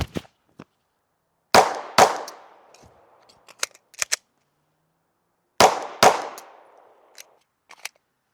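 Handgun fitted with a red dot sight fired outdoors: two sharp, loud shots close together, a pause of several seconds, then two more, each with a brief ringing decay and small clicks between.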